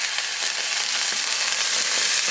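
Water poured into a hot pan of daikon steak sets off a loud, steady hissing sizzle that fills the whole stretch without a break, with no voices.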